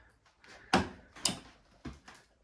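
A large freezer door in a hidden room being pulled open, a few heavy clunks and rattling knocks at irregular intervals, close by and moderately loud, without speech.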